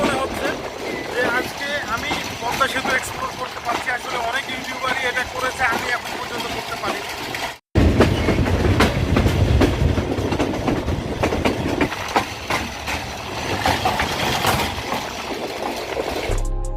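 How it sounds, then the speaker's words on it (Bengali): The Madhumati train pulls out of Rajshahi railway station with a continuous close rumble and clickety-clack of the wagons, broken by one brief gap, with a voice talking over it. "ধীরে ধীরে এখন আমি পার হয়ে যাচ্ছি রাজশাহী রেল স্টেশন চলতে শুরু করেছে ট্রেন"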